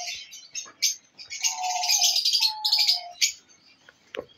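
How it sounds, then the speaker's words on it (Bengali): Conures and lovebirds at a bird seller's premises give close, loud chirps and sharp tweets in quick bursts, with a couple of longer whistled calls in the middle and scattered calls toward the end. "সাইজ বিশাল সাইজের পাখি আছে, দেখতে পাচ্ছেন কোয়ালিটি কেমন, দারুণ সাইজের পাখি।"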